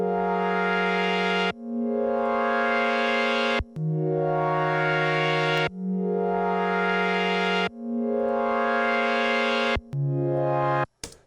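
Omnisphere synth pad played at half speed: a series of about six sustained, harmonically rich pad chords, each lasting roughly two seconds and separated by abrupt cuts, loud and steady with no voices.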